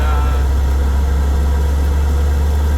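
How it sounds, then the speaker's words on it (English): An old 2005 Bluebird school bus with a Cummins engine idles nearby, giving a loud, steady low rumble with a constant vibration throughout. "This particular bus that I'm driving is a Bluebird."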